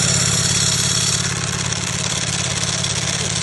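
A 2023 Ducati V4S SP2 motorcycle idles close up, its engine a loud, steady mechanical drone layered with a busy metallic rattle from the dry clutch that continues without a break.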